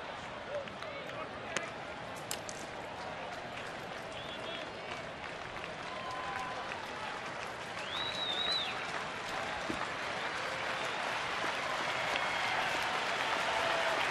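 A sold-out crowd of more than 44,000 at a Phillies–Nationals baseball game cheers and applauds, a broad roaring wash that swells louder toward the end while an announcer talks over it.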